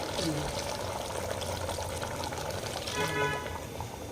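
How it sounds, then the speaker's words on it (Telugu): Water pours steadily into a pot of goat head meat curry, a continuous splashing trickle with some background kitchen noise throughout. "నీళ్ళు పడుతున్నావా?"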